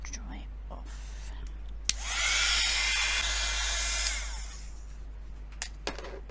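Heat tool drying sprayed Distress Oxide ink, a steady airy whirring hum rising for about two seconds over a low background hum, with a few light clicks around it.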